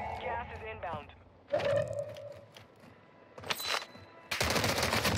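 Gunfire in Warzone 2 at Vondel Park, several bursts and rapid volleys of shots mixed with game sounds, loud and close, with people talking over them.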